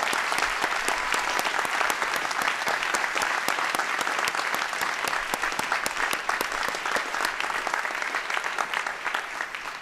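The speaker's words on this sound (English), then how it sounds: "please join me in applause for this group of faculty" Applause from the crowd at a 2013 university ceremony honoring retiring faculty. The clapping is steady and dense, moderately loud and fairly distant, with individual claps standing out, and it tapers slightly toward the end.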